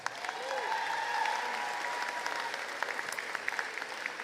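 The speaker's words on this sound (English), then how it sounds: "Please give them a round of applause." An audience at a 165th commencement ceremony applauds in a large hall, a sustained wash of many hands clapping that swells early and then holds steady with scattered sharper claps.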